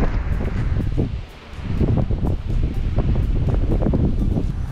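Cold north wind blowing along the Tintagel coast in England, a steady loud gusting rush with buffeting on the microphone, briefly easing before picking up again.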